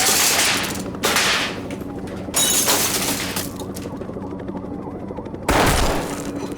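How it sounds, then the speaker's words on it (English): Gunfire during a school shooting, with several loud, sharp blasts and bursts that each trail off into echoing reverberation, separated by quieter gaps, and no voices. "He's shooting in the library right now."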